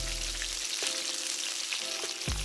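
Green onions or scallions frying in hot oil in a pan for Jamaican-style fried fish, giving a steady broadband sizzle throughout with a few faint utensil taps and no talking.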